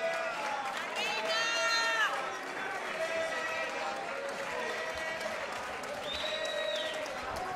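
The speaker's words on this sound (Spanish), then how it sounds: "recibiendo la ovación del público en esta gran noche histórica" A crowd at a professional boxing night roars and applauds as the new female European champion appears with her belt, sustained cheering and clapping under loud, excited commentary.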